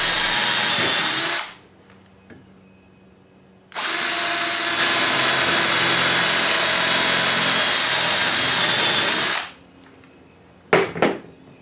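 A Porter Cable 20-volt hammer drill bores mounting holes in an aluminum trim piece, two long loud high-pitched whining runs separated by a pause, ending with a couple of short bursts.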